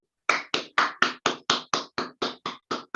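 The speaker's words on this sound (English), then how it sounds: "So please make very welcome with a rousing applause, Toastmaster Salif Mohammed." Steady, evenly spaced clapping at a Harmony Toastmasters Club meeting in Ilorin welcoming Toastmaster Salif Mohammed to the lectern, about a dozen sharp claps, fairly close and clear with no voices.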